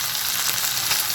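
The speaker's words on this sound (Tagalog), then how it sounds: "Napiprito na siya" Meat sizzling and frying in a pan for homemade dog food, a steady, close hiss of crackling oil with no voices.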